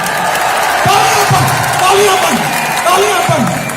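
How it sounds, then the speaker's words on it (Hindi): A large indoor stadium crowd at a networking friends meet claps and cheers loudly and continuously, with rising whoops and shouts cutting through the dense wash of applause. "10 सेकंड में जल्दी से ताली बजा लीजिए"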